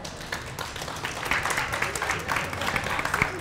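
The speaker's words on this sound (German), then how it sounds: "Applaus für euch beide." A small lecture audience claps for two quiz winners, the applause fairly quiet and uneven, with separate hand claps audible as it builds slightly toward the end.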